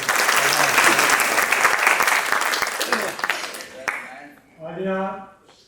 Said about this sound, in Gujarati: એમનો તાળીઓના ગણગણાટ એમને